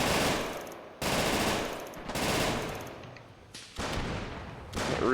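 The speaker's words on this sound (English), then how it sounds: "Looks like we might have some direct control MG fire on the left." Machine gun fire in a realism strategy game match, loud sustained bursts with brief gaps between volleys, dense and crackling throughout, no talk over it.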